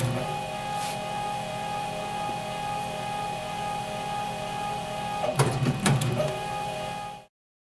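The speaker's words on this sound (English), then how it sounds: "use this machine here, which is a heat cutting machine" A heat cutting machine slicing webbing for belts in a workshop, giving a steady electrical hum with a tonal whine, then a brief burst of mechanical clatter and cutting noise before it stops abruptly.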